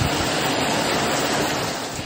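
Rising sea waves at Tacloban, Leyte during stormy weather, a broad continuous roar of surf and wind that holds loud and steady for a couple of seconds.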